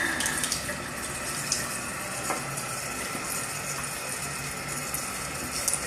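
Tap water rushing steadily through a home water conditioner filled with small moving beads, a continuous close hiss and gurgle with no talking.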